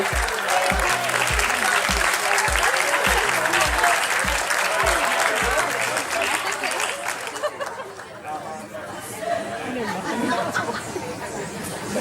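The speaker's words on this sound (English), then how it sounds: "One more time, let's have a nice round of applause for Wally" A crowd in a tent gives a round of applause for Wally at a school celebration honoring a head of school, with loud continuous clapping and chatter and a steady thumping beat under it early on, fading toward the end.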